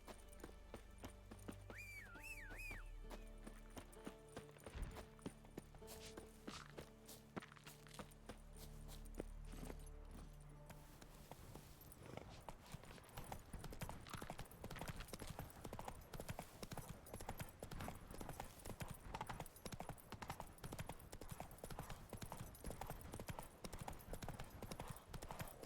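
A horse's hooves clip-clop at a steady walking rhythm in The Witcher 3, starting after a quieter stretch with ambient game sounds and continuing close and prominent, with a brief neigh-like cue early on.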